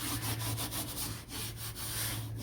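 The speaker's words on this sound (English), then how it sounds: "I'm gonna keep sanding on this." Hand sanding on the rear hatch body work of a Nissan Pathfinder makes a faint, steady rhythmic rasp of back-and-forth strokes, close by, under a constant low hum.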